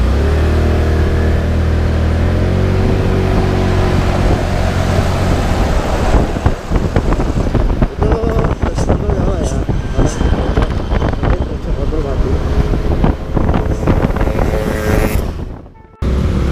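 A Honda Forza scooter accelerates at full throttle, its engine roaring loud and close under heavy wind buffeting on the microphone, rising in pitch before cutting off near the end.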